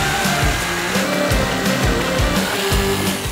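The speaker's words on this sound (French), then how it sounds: "Je remets ma règle pour une coupe bien droite et je coupe." A power saw cuts a straight line through a kitchen backsplash panel guided by a ruler, giving a loud, continuous close-up whine with rhythmic dips as the blade works through the material, with no talking.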